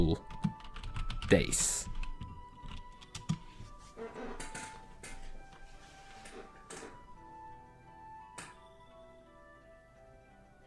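Fingers clatter on a computer keyboard in quick, uneven bursts of clicks, busiest early on and thinning to scattered keystrokes, with a voice speaking briefly.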